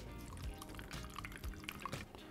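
A blended oat milk mixture is poured slowly onto a straining cloth, giving a soft, faint, steady trickle with a few light drips.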